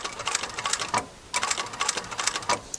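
Sewing machine stitching around a bolster cushion: quick, close mechanical rattling bursts, a brief pause, then the stitching resumes in a steady rapid rhythm.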